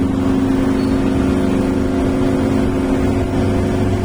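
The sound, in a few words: cars passing on the street below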